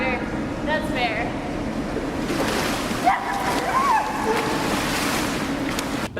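Water splashes in a pool in bursts over a wash of surf-like sloshing, with people's voices talking and exclaiming close by throughout.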